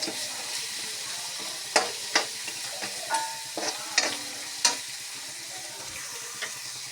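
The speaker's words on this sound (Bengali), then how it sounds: "মশলাগুলো ভাজা হয়ে গেল" Spices and green chillies sizzle in a hot pan for a bottle gourd and crab curry while a utensil scrapes and clinks against it several times, irregular taps over a constant frying hiss.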